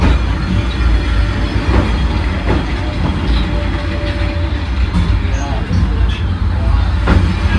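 A train rumbles past up close on a street track in Hanoi, Vietnam, heavy low droning with rattling wheels and faint squeals, loud and continuous throughout.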